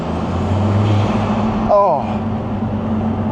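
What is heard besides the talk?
turbo noise from Lotus Emira Turbo SE engine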